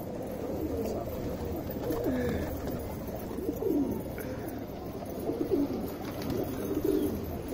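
Pigeons kept for sale on a Delhi rooftop coo in repeated soft, throaty phrases close by, over a steady background hum, with no talking.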